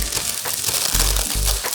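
Baking parchment peeled away from a freshly baked cake base for Baked Alaska, giving a close, continuous papery crinkling and crunching with a few soft low thumps, heard alone.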